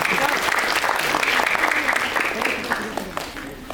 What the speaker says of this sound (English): So can we have a big round of applause for our parents who are sitting over here?